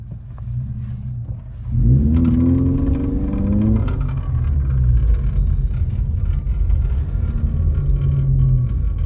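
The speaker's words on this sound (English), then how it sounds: "That's the traffic most of you will be coming in." Traffic moves along a snowy road at Big Bear, with a low steady rumble that swells into a louder passing engine growl around two seconds in, then settles into an ongoing drone.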